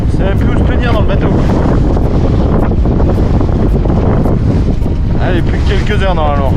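Strong wind roars across the microphone aboard a Mini-Transat racing sailboat beating upwind at sea in about 30 knots, with waves and hull noise, loud and continuous throughout, with a voice talking over it.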